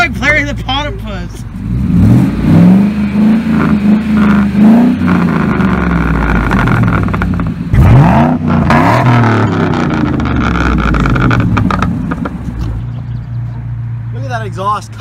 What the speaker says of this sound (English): Now I want you guys to hear this suppressed exhaust, okay?